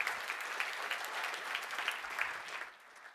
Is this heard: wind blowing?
no